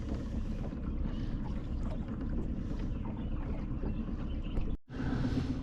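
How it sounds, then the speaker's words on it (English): Small outboard boat motor idling steadily throughout a fishing trip on open water, a continuous low rumble with wind buffeting the microphone; a brief dropout near the end. "You can hear my motor still. I never shut it off."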